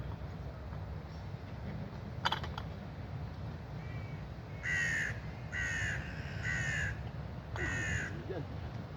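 Harsh crow caws from birds being fed ring out in several bursts, some rapid and overlapping, over a steady low rumble of background noise.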